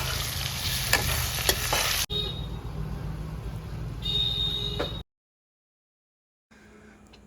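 Chicken cooking in a pan with salt and sugar is stirred over a steady, close sizzle with a few scraping strokes. The sound cuts off abruptly into silence, then a faint sizzle returns.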